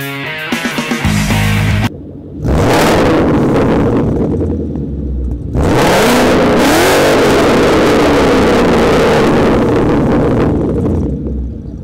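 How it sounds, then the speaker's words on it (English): A loud car engine revs sharply twice, each blip rising and falling away, with wind buffeting the microphone throughout. "Now I'm just going to give it a couple of revs."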